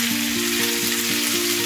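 Food sautés over a high flame with black pepper and salt, sending up a loud, continuous close sizzle and frying hiss under a low rhythmic hum of the burner or pan, with no voices.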